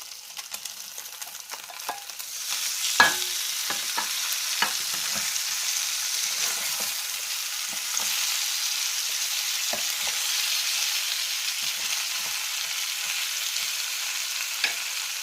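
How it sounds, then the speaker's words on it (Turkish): Fried zucchini and eggplant tip into a hot pan, setting off a steady loud sizzle with scattered clinks and stirring knocks, no voices. "Şimdi hemen üzerine kızartmış olduğum kabak ve patlıcanları döküyorum."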